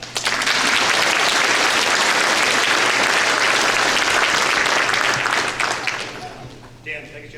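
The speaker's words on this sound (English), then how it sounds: "You can clap." A crowd applauds at a police reserve academy graduation ceremony, a loud, dense, sustained round of clapping that fades out near the end, with a few voices emerging as it dies away.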